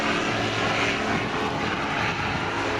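Air Total Calidus autogyro flying at the Air Waves Portrush 2016 air show, its propeller engine giving a steady, fairly distant droning hum with no talk over it.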